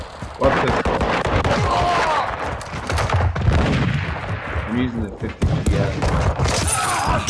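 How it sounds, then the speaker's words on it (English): Gunfire in Call of Duty Modern Warfare 2 multiplayer: dense, continuous shooting and impacts at close range, with a few brief breaks and thuds, mixed with shouted in-game voice lines. "They're firing on me! Incoming!"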